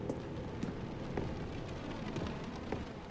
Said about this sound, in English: it sounds like it's raining